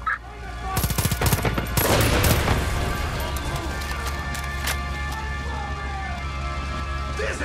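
Gunfire in Far Cry 5: a burst of loud close shots with sharp repeated cracks early on, then continuing game ambience with scattered fainter shots and some talk.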